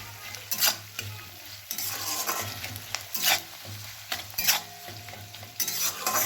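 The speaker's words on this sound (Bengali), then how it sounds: "আমার পেঁয়াজ ক্যাপসিকাম ভাজা ভাজা হয়ে গেছে" Onion and capsicum sizzle in a pan while being stirred, with repeated scraping strokes and bursts of crackling, close and fairly loud.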